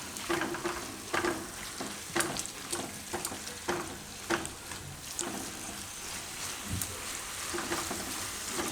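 Vegetables for veg American chop suey stirred with pepper powder, tomato ketchup, chili sauce and soy sauce in a hot pan, giving a steady sizzle broken by repeated scraping stirs, close and moderately loud.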